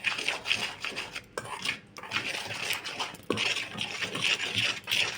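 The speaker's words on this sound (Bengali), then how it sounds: "এই উপকরণগুলো আমি একসাথে ভালো করে মিক্স করে নেব প্রথমে" A utensil scrapes and clinks against a bowl while egg chop batter ingredients with baking powder are stirred together, in steady close strokes with brief pauses.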